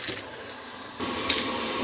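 A vacuum cleaner sucks built-up dirt and lint out of a clothes dryer, a steady close whine and rushing airflow with a high tonal hum, shifting in pitch midway as the nozzle moves.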